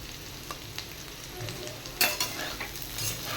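Potato and bitter gourd are stir-fried in a pan for a kalara aloo curry, with soft scraping stirs and a steady close sizzle.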